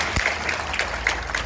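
A short burst of audience applause at a Hindi poetry recital, dense clapping held at a steady level for just over a second.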